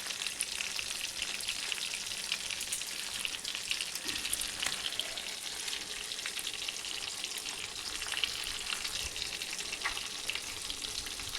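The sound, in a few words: stuffed chillies frying in a pan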